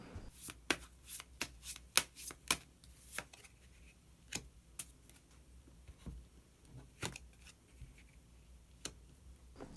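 Tarot cards are shuffled and drawn close by in a quiet room, giving a string of soft, crisp riffles and slaps in irregular bursts.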